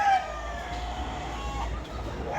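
Backyard chickens kept by an older man cluck close by, with a rooster's drawn-out crow rising over a steady low background rumble.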